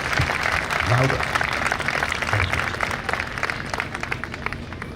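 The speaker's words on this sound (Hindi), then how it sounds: "एक बार हम लोग जोर से ताली बजा दें इस प्रभु, सभी जोर से।" An audience at a Hindu spiritual discourse claps in a steady, dense stream throughout, with a voice audible over it.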